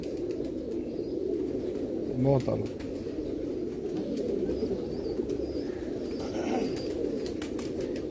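Pigeons coo softly and steadily in the background while someone talks over them, with a brief flutter or louder burst partway through, among a flock of racing pigeons in Lahore.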